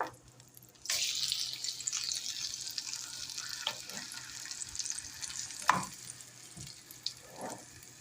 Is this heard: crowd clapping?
no